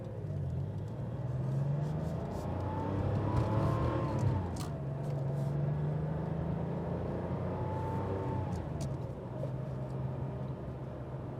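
A 1988 Porsche 911 Commemorative Edition pulls away and accelerates, a low steady engine rumble rising through gears from inside the cabin, moderately quiet with a few light knocks.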